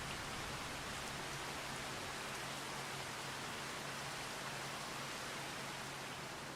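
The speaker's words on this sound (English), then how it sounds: "let's I'm just going to speed time up and see if we can get out of this rain." Steady rain in the farming game Farming Simulator 25, a dense even hiss with a faint low hum beneath, unbroken and fairly quiet.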